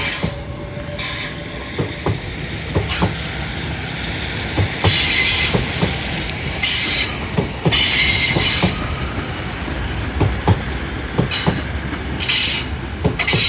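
An LNER Class 800 train pulls away from Doncaster station, its wheels squealing loudly and steadily against the rails, with sharp rhythmic clicks and clunks from the wagons rolling over the track joints.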